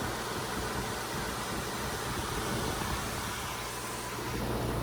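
A 2011 Ducane heat pump running in heat mode makes a constant, broad whooshing fan roar with a low steady hum underneath, close and unchanging throughout.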